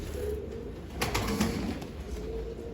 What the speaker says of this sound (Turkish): Çok güzel kuşlar aldılar.